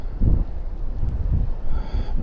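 Strong, gusty wind on Roskilde Fjord in shallow water, a steady low rumble buffeting the microphone with surges throughout, no voices.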